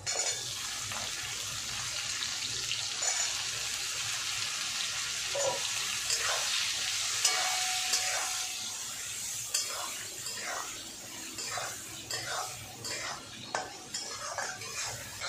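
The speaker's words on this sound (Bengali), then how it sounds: "আলু আর পেঁয়াজ একটু ভাজা ভাজা হবে।" Onions and potatoes fry in a pan with steady sizzling, broken by frequent stirring scrapes and light clinks of a utensil against the pan throughout.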